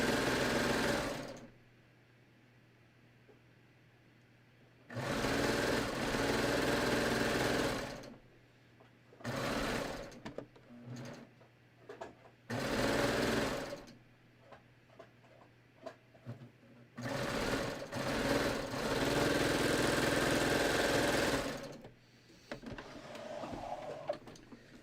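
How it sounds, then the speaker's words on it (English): A sewing machine stitches a side seam on a raglan sleeve top in several loud bursts of rapid mechanical whirring, each lasting one to three seconds, separated by quiet gaps with light handling clicks. "I'm just sewing the side seam."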